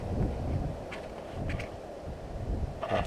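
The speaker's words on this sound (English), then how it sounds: "Sorry for all the wind noise." Gusty wind buffets an outdoor microphone beside a motorbike, a steady low roar that swells and eases throughout, with faint higher rustles breaking through now and then.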